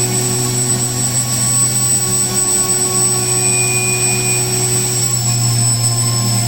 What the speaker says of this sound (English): it's chattering again. I don't know why. It's gotta be that end mill.